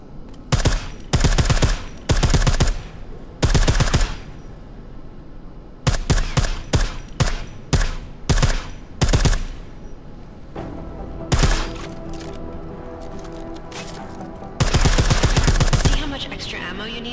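Silenced gunfire in the Deus Ex video game, sounding as sharp bursts of rapid shots in clustered volleys, separated by short pauses, with the last burst heavy and sustained, under steady in-game background noise.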